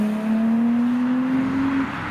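An Audi S4 Avant pulling away from a car show, its engine holding a loud steady drone that rises slowly in pitch before cutting off abruptly near the end.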